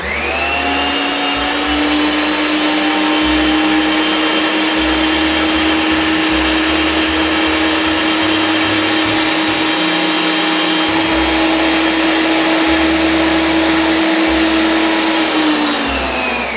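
A stand mixer fitted with a flat beater whips eggs, a loud, steady motor whine with a constant pitch that runs unbroken and close throughout.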